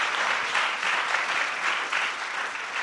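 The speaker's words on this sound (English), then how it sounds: "a big round of applause for Suketu" A live audience at a literary festival talk applauds steadily throughout, a dense continuous wash of clapping from many hands with no pauses.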